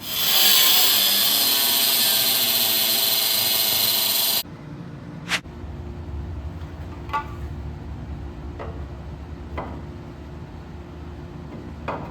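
A power tool cuts away a torque strap tab on an engine block, loud and steady for about four seconds, then stops, leaving a quiet workshop with a few faint clicks and taps.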